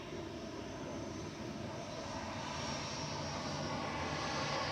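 Boeing 737 MAX 8-200 airliner rolling out at Manchester Airport, a steady broadband jet roar that holds level and swells slightly toward the end, heard at a moderate distance without voices.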